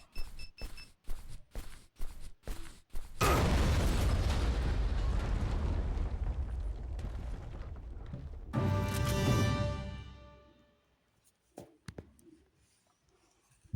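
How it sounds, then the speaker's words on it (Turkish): A bomb is planted and detonated in a video game, with a rapid run of sharp mechanical clicks followed by a loud, sustained booming explosion that rumbles for several seconds before tapering off, then a few faint clicks. "Bombayı kur ve patlat."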